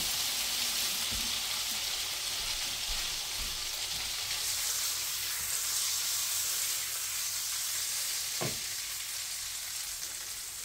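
Butter melting and egg-soaked bread for French toast frying in a hot pan, a steady, loud hiss and crackle of sizzling that continues without a break, with a few faint clunks.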